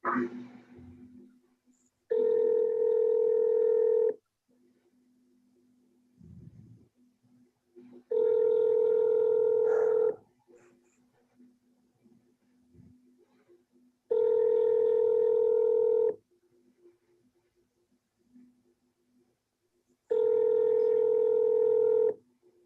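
Telephone dialing while placing a call: four long, loud repeated ringback tones at regular intervals, separated by near silence with faint background murmurs.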